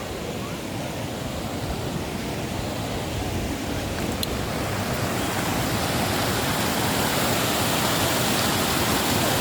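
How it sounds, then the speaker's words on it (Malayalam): Dudhsagar waterfall in Goa roars as a steady, dense wash of falling water over large rocks, loud and continuous throughout with no voices, filling the whole scene. "ആ വെള്ളം ചാടുന്ന ശബ്ദമൊക്കെ നല്ല അടിപൊളിയായിട്ട് കേൾക്കട്ടോ"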